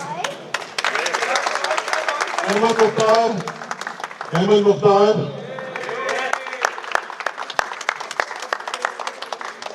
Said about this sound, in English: Come on guys, clap them.